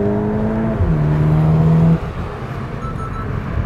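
Volkswagen T-Roc R accelerating uphill: a steady, loud engine note climbs in pitch, drops once at a gear change and climbs again, then falls back to a lower rumble of road noise after about two seconds.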